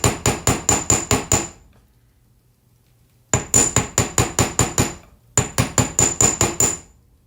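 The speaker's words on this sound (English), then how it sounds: "And then just do this quick little hammer." Quick bursts of metal hammer strikes flattening the end of an eye pin for wire earrings, three sets of about six to seven rapid close taps separated by short pauses, crisp and loud with no talking.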